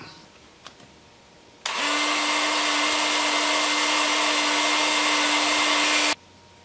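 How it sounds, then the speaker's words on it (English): A power sander working a wooden rose root ball on the workbench starts abruptly after a couple of faint knocks and runs as a loud, steady whine for about four seconds, then cuts off. "And now I'll just sand it up."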